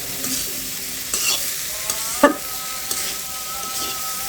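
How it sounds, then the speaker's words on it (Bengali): Cauliflower being stir-fried in spice masala in a pan, a low steady sizzle under occasional scraping stirs and one sharp clink of the utensil against the pan. "ফুলকপিতে দিয়ে এই মশলার ভিতর নেড়ে ছেড়ে একটু সুন্দর করে কষিয়ে নিচ্ছি"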